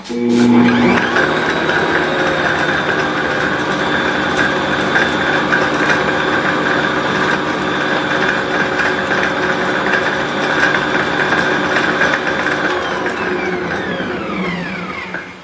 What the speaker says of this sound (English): I'm sorry about the noise, but there's no getting around that with the mixer.